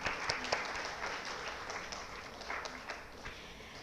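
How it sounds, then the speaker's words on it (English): An audience at an art and architecture event gives a modest round of applause for an architect, soft scattered clapping from a small crowd lasting a few seconds. "She deserves an applause."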